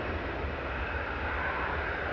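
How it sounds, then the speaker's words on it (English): A Malta Air Boeing 737-800 jet roars loudly, a steady broad engine rumble filling the air with no break and no talking. "737-800, they're operated on the Maltese register under Malta Air on behalf of Ryanair, or really just as a subsidiary."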